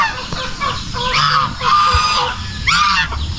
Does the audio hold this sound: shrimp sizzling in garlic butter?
no